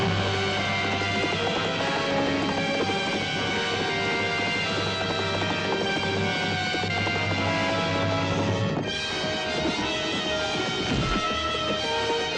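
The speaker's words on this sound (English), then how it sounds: "So the horse is swift." Horse hooves pounding in a fast gallop, a dense rhythmic clatter mixed into a loud film soundtrack with music and effects, briefly broken by a sharp crash before the drumming resumes.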